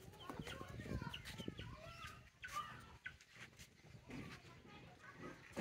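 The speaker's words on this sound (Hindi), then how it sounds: "मुर्गियों को निकाल दिया है" Several chickens cluck and squawk near and far across a village yard after being let out of their coop, with a few louder calls among the steady farmyard chatter and a voice talking over them at times.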